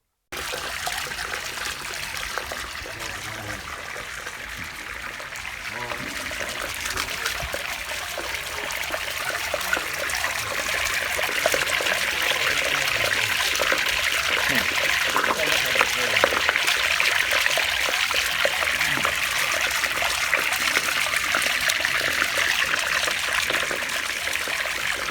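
Water streams continuously out of a fishpond, a steady rushing trickle that grows fuller and louder partway through and runs on throughout, with a person speaking over it at times.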